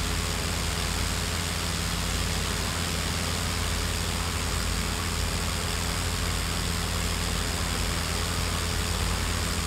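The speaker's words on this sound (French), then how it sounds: "Alors le bruit du moteur, il n'est pas du tout conforme." Steady droning engine of a light aircraft in a flight simulator game, running with a fault, a continuous broadband hum with low rumble holding at an even level throughout, no voices.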